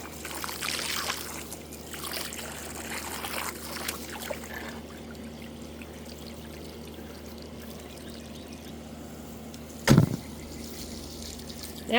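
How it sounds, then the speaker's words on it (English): A garden hose runs steadily, rinsing a birdbath balanced on rocks in a cottage garden, with a continuous close pouring wash and a brief sharper splash near the end. "Now that I've got the hose out,"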